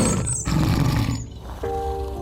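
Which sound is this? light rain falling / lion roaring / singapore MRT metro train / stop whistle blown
lion roaring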